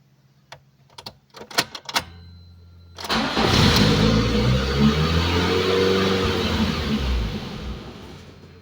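A Lada Kalina with a fault that makes it idle at about 3000 rpm and stall is restarted after a few clicks and taps. The engine catches and runs at a loud, uneven idle that rises and falls before easing.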